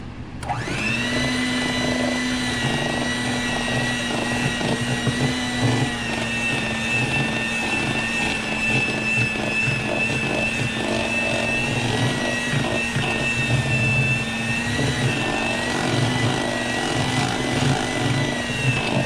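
An electric stand mixer whirs at a steady pitch while beating cinnamon roll dough made with almond flour and cake flour, a continuous motor drone with slight wobble, running unbroken from start to finish.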